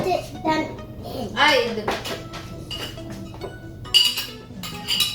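A metal spoon clinks against a mixing bowl as sugar is added for chocolate chip cookie dough, with several light chinks scattered among an adult's and a voices.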